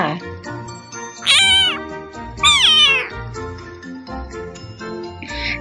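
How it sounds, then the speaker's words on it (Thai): A cat meows twice, loud and close, with rising-falling cries over soft background music and a faint tinkle. "ไปฟังเสียงแมวร้องกันดีกว่าค่ะ"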